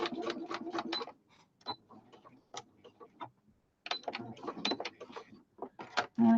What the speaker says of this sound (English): I'm going to do a straight stitch first and see how we get on